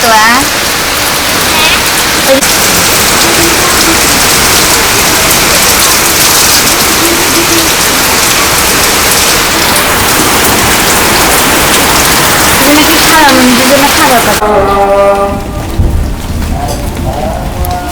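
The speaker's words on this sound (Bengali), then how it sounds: "অনেক বৃষ্টি নামতেছে" Heavy rain pours down in a village, a loud, dense, continuous roar of drops on surfaces that covers nearly the whole stretch before easing slightly near the end, with faint voices.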